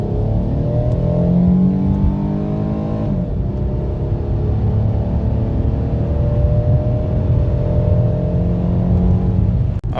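Car engine misfiring as it accelerates, giving a loud, continuous rough drone with rising harmonics and an uneven, stumbling texture through the whole stretch and no talking, suspected ignition coil or spark plug fault.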